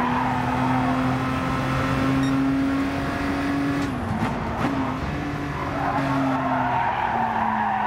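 Race car in the GT Sport video game at around 200 km/h, a loud steady engine drone with a sustained tire screech as it exits a corner, the engine pitch dipping and rising again.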